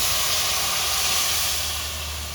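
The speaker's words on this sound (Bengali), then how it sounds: "মশলাটা ভাজা হয়ে গেলে এবার ডালটি দিয়ে দিই।" Toor dal dropped into hot oil with fried chillies and spices, giving a loud, steady broadband sizzle and hiss that holds for the whole stretch and eases slightly toward the end.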